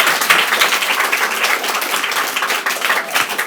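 Steady, loud applause from an audience at the inauguration of an education centre, a continuous dense wash of hand claps that holds evenly throughout without talk.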